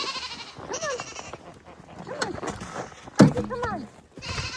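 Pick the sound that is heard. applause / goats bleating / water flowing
goats bleating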